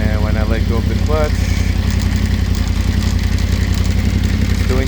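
A Yamaha Tenere 700 fitted with a Barnett clutch idles in gear with a steady low, throbbing engine rumble and light mechanical clatter, close up, while someone talks over it.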